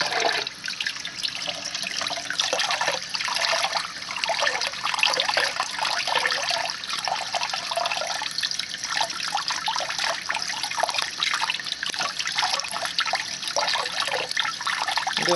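Hog casings are rinsed under a running kitchen tap for sausage making; a steady, close splashing and trickling of water continues throughout, with slight fluctuations as the casing is handled.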